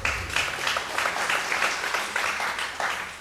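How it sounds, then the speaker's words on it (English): Applause from a conference audience for a panelist on a youth entrepreneurship panel, a close, steady patter of many hands clapping in rapid uneven bursts for a few seconds without pause. "So round of applause to Daniel."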